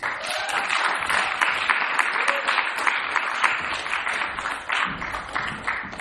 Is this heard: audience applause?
yes